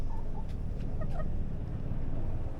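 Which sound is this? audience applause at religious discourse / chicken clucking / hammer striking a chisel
chicken clucking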